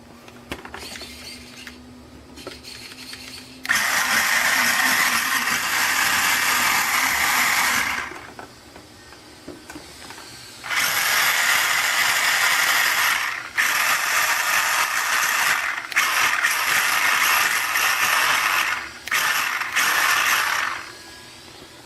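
Electric motor of an RC car running with the shell off, a loud high whine in long bursts separated by quieter gaps, close by with no talk.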